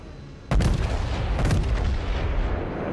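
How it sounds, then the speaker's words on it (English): The battleship USS New Mexico, BB-40, fires a main gun salvo in World of Warships: a sudden heavy boom, then a second thunderous blast a second later, both trailing off into sustained deep rumbling. "I'm trying to concentrate the last couple shots on that Yevny"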